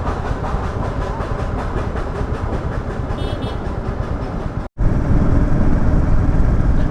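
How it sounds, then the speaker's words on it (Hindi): Ooty toy train rolling past, a continuous loud rumble with steady wheel and carriage noise throughout, a brief cut near the end before the noise resumes. "ऊटी की है टॉय ट्रेन।"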